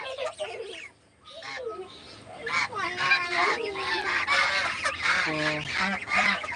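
A flock of domestic ducks quacks and honks close by, overlapping calls coming in noisy bursts after a brief lull near the start.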